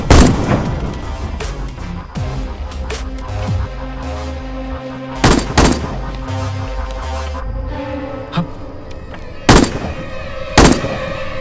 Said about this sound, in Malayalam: വെടിവെച്ച് കേട്ടില്ലേ?